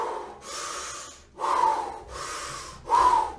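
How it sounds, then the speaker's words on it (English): Slow, deep breathing as an exercise done lying on the back: four long, close breaths, drawn in and pushed out with a rushing, airy hiss, in a steady rhythm and with no talk. "you take 30 deep breaths."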